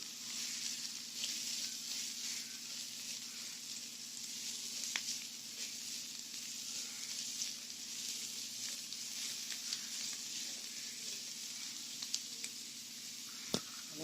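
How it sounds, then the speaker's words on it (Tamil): Continuous crackling sizzle of onions frying in a pan, steady and close, with occasional sharper pops. "வெங்காயம் லேசாக வதங்கினா போதும்"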